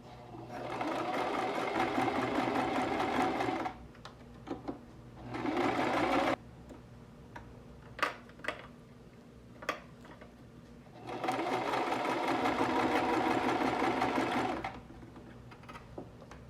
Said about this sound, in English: I know silk fabric can be a little slippery, so try your best to like sew on a straight line.